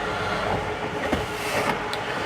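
An electric rack-and-pinion slide on a 2025 Forest River Impression 315MB mid-bunk fifth wheel RV ratchets as it reaches fully closed, giving a steady rapid clicking over a motor hum, heard close and alone.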